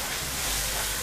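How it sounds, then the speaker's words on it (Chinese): Sauce hitting a hot wok for stir-fried eel with yellow chives, giving a loud, steady, close sizzle and hiss that fills the whole second without pause. "现在我们把这汁儿全都倒进去"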